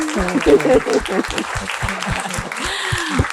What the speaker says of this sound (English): Let's give this team another applause